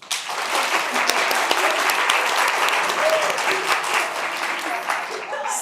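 A stand-up audience answers a Valentine's Day poll with loud, sustained applause, crisp individual claps standing out in the thick crowd sound, with some voices underneath.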